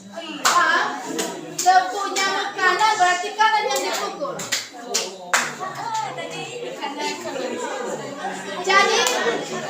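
Children clapping hands in the tepuk nyamuk clapping game, sharp irregular claps ringing out amid a busy classroom of kids' voices and a teacher talking over them.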